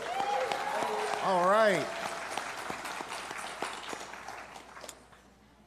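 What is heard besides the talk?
audience clapping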